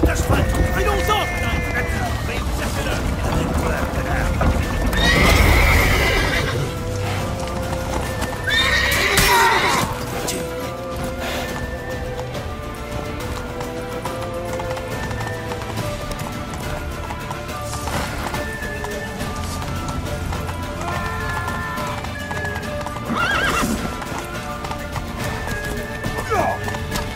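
Hooves clip-clop at a steady gallop with an occasional horse whinny, set against game music and bursts of noise, with voices talking at times, in the video game The Witcher 3: Wild Hunt.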